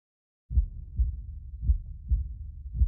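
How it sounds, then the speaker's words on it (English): Heartbeat sound effect in a Minecraft horror ARG game: low, thudding double beats at a steady moderate pace, starting abruptly after a short silence and repeating about five times, close and alone. "Not the heartbeat, man. Not the heartbeat."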